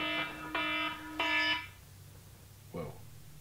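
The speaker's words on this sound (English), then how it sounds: "It's my old man alarm." Three loud, harmonic electronic alarm beeps in quick succession, each roughly a third of a second long, then a short faint tone as it cuts off, with room quiet between.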